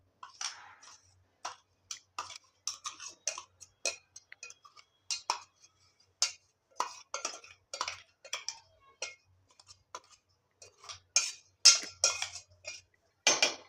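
Ground peanuts being mixed by hand into a sabudana vada mixture in a bowl, giving soft, irregular clicks and scrapes of a utensil against the vessel, close and fairly quiet, with no talking.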